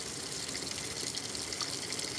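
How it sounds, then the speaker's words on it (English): Water gushes continuously inside a washing machine during a cloth diaper wash cycle, a steady close hiss with no talking. "that's water"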